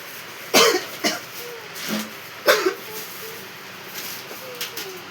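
Several harsh coughs come in bursts, two strong fits with smaller ones between, close by, over a quiet room with faint background sounds.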